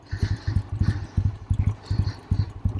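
A restored 1964 Triumph Bonneville T120 motorcycle engine runs with a steady, pulsing low thump and fairly even firing beats, close and moderately loud with no talking.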